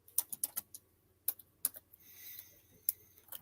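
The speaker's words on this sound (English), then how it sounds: "Obviously, this dude's over here typing. I can hear it." Typing on a computer keyboard, a few quick bursts of close, crisp key clicks separated by pauses, with a faint hiss in between.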